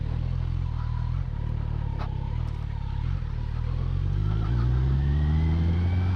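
A Kawasaki Z900 motorcycle climbing a steep uphill, its engine a constant loud drone that climbs in pitch toward the end, heard close with no talk.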